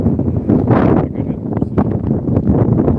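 Wind buffets the microphone in steady low rumbling gusts, loud and close, with no voices.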